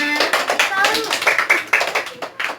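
A class of schoolchildren claps hands together in a short burst of uneven, close claps, with children's voices mixed in throughout.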